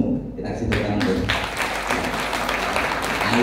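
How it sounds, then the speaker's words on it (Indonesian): Applause breaks out among a school audience, building quickly from a few claps into a dense, loud, sustained clatter, with voices mixed in underneath. "kita kasih tepuk tangan dulu"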